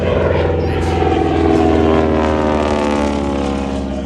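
A propeller aircraft at an Alaska airshow drones loudly and steadily overhead, with a throbbing engine roar that holds its level and swells slightly midway.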